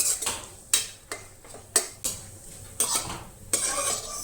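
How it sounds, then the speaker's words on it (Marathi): Spoon stirring and scraping in a pan while ingredients are lightly roasted for Goan sweet rice, a string of sharp clinks and taps spaced about every half second, quiet and close. "ते बी हलकेशे आतां भाजून घेया."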